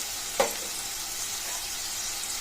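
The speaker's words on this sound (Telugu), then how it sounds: "ఇప్పుడు ఉల్లిపాయ కలర్ మారే వరకు మనం కలుపుకొని పెట్టుకోవాలి." Onions and green chillies frying in a pan, a steady close sizzle with one brief clink of a stirring spoon near the start.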